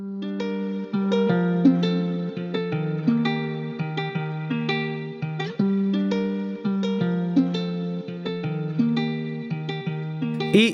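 An isolated electric guitar track from a beat mix in FL Studio plays a melodic line of plucked notes and short phrases, clean with a touch of effects and reverb, fairly quiet.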